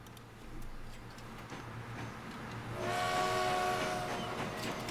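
A goods train in Transport Fever rolls along with a steady ticking clatter, and it swells near the end into a louder metallic passage with a tonal squeal or horn-like ring.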